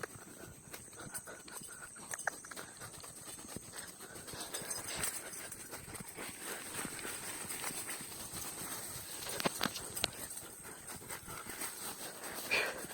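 Horse hooves clip-clop steadily on a countryside path during a horseback ride home, a continuous close rhythm of hoof strikes under rustling and wind noise.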